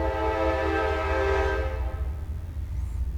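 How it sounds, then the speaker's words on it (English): A passing train sounds its horn, a loud sustained blast that fades after about a second and a half, leaving a low rail rumble with no talk. "There goes the train."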